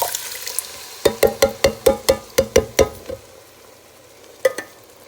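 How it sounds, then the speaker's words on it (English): Canned tomatoes, 24 ounces, going into a soup pot for a community soup supper, giving a quick run of about eight close, regular wet plops and splashes, then two more after a pause. "24 ounces of tomatoes going in."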